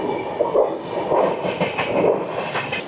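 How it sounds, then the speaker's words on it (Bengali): Puri–Bikaner Superfast Express, train number 20472, running near Jaipur Junction; a loud, steady rumbling rattle of rolling wagons fills the whole stretch with no voices. "এটা হচ্ছে ট্রেন নাম্বার 20-472, পুরী থেকে বিকানির সুপারফাস্ট এক্সপ্রেস"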